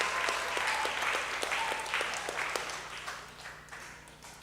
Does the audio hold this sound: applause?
yes